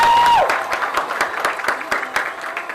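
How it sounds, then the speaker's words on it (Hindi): A small group claps in an FM radio studio for film guests Ajay Devgn and Tabu. The scattered, fairly close hand claps follow a short tone. "Trouble your hands please. ताली बजाओ।"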